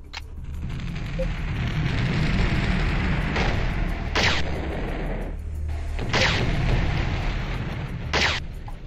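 Sci-fi weapon fire in the Battlezone Combat Commander tank game, a sustained roaring plasma or arc stream punctuated by four sharp bright bursts spaced about two seconds apart, loud and close with no talk.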